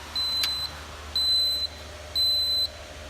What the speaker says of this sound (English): at least it has an alarm